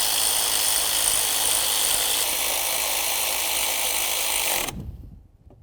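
Power tool tightening the power steering pump mounting bolts on a 2002-2006 Honda CR-V, a steady whirring mechanical drive running for several seconds close up, then stopping abruptly into near silence.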